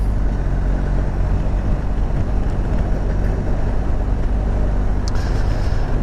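A BMW R1250GS motorcycle out on the road, its engine and heavy wind rush forming a loud, constant roar without let-up.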